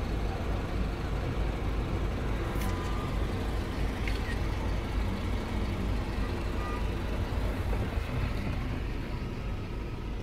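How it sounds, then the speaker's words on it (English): Dense, steady city traffic roars around Times Square in New York, with engine rumble, passing vehicles and faint higher squeaks blended into a continuous wash. "We're not stopped in Times Square traffic?"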